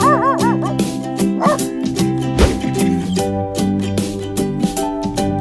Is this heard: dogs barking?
yes